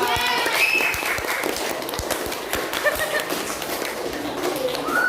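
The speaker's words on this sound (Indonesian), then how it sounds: "beri tepuk tangan untuk Salsa" Classroom audience claps for a student, Salsa, during a teaching workshop lesson: scattered, uneven handclaps and taps carry through the clip, moderately loud, over a noisy room with faint voices.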